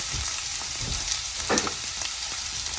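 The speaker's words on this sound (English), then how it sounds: "here I have some oil in the skillet right here, and I am going to add these onions to it" Onions sizzle in hot oil in a skillet as the base for a beef egg foo young gravy. A steady, close frying hiss runs throughout, with faint stirring scrapes and no talking.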